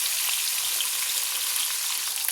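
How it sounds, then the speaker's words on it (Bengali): Fish pieces frying together in hot oil in a pan give a steady, close, dense sizzle with fine crackling throughout, no voices. "সব মাছগুলো আমি একসঙ্গে ভেজে নিচ্ছি"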